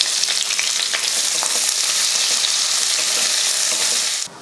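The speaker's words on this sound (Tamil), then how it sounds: "அதே எண்ணெயில் 3 பட்டை, 3 ஏலக்காய், 3 கிராம்பு, 1 அன்னாச்சிப்பூ, 1 பிரிஞ்சி இலை நல்லா வதக்கினதும் 2 பெரிய வெங்காயம்" Cinnamon, cardamom, cloves, star anise, bay leaf and sliced onions sautéing in hot oil, a loud, close, unbroken sizzle with light stirring scrapes that cuts off abruptly at the end, no voices.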